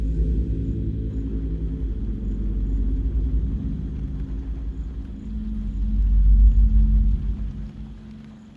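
Steady rain falls throughout, a dense continuous wash with a heavy low rumble that swells louder near the end, with no voices.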